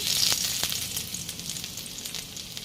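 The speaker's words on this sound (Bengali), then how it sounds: "তেল গরম হয়ে গেছে। এবারে দেব একটু রসুন কুচি" Chopped garlic sizzles in a wok of hot white oil, a steady bright crackling hiss with a few sharper pops, close and alone with no voices.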